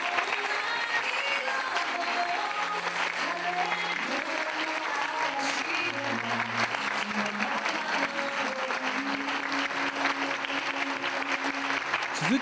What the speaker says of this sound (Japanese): 皆様どうぞ大きな拍手でお迎えください